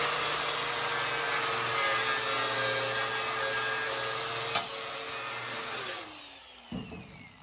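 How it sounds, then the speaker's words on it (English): An electric drill bores holes along the edge of a metal panel during a garage repair, a steady high-pitched whine running continuously before winding down near the end. "drill holes in this edge and weld it right back"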